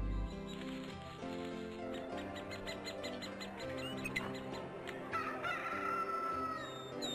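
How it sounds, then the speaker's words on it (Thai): A rooster crows somewhere in the distance, faint beneath steady background music that plays throughout. "ไก่ขันนะฮะ"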